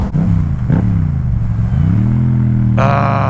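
A motorcycle engine idles with a steady low rumble, then revs briefly and climbs to a higher, brighter drone near the end.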